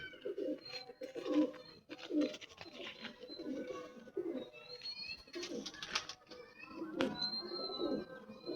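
Pigeons coo softly and repeatedly, their low throaty calls overlapping at a steady pace close by, with a few higher chirps mixed in.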